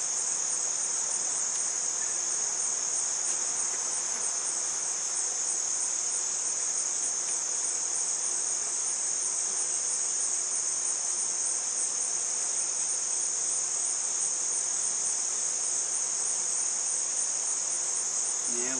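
Honeybees buzzing in an open hive with a laying queen, a dense steady high drone that stays loud and unbroken throughout, close by.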